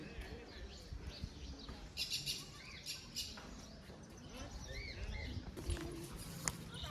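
Sparrows and parrots chirp and tweet in a garden at Umiyadham Sidsar, with scattered bird calls at moderate distance over quiet background noise.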